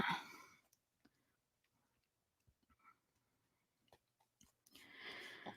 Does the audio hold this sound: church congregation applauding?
no